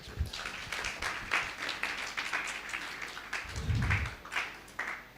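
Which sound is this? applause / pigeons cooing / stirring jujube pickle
applause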